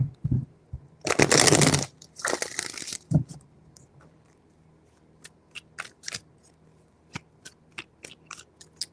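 Tarot cards being shuffled by hand in bursts of dense riffling, followed by scattered soft taps and flicks of individual cards, close and alone without talk.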